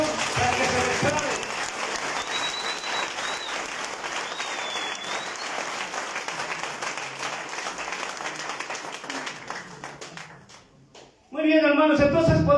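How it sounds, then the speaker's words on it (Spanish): Church congregation applauding during a service, a long stretch of steady clapping that fades out near the end before a voice speaks and music returns. "Den un aplauso al Señor"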